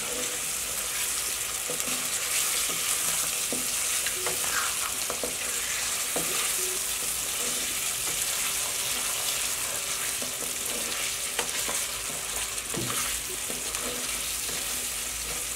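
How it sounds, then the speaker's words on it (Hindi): Mutton for karahi fries over a high flame in a steady, dense sizzle, with scattered crackles and scraping stir sounds running throughout, close and continuous without any talking. "गोश्त को हम अच्छे से भूनेंगे। फ्लेम को हाई कर लें।"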